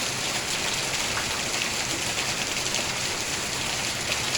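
Morning rain falls steadily in rural Thailand, a dense, even hiss of drops with no breaks, close and constant throughout, with no voices.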